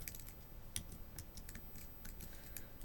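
Quiet typing on a computer keyboard, a steady patter of light key clicks at close range with no voices.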